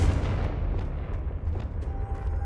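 A Confringo spell explosion in Hogwarts Legacy, heavy booming rumble with a few sharp crackling bursts layered over a dense low roar, loud and close.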